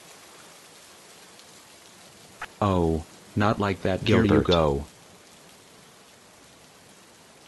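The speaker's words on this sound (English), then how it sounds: "it's raining cats out there" Steady broadband hiss of rain falling outside during a power outage, continuous and moderate throughout, with a short stretch of speech over it midway.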